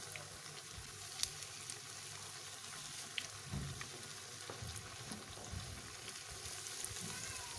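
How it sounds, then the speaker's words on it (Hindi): Raw potato kebabs fry in oil in a pan, giving a quiet, steady sizzle with occasional soft pops and crackles, heard alone without talk. "एक साइड इसकी अच्छे से फ्राई होती है, फिर मैं इसकी साइड चेंज कर देती हूँ।"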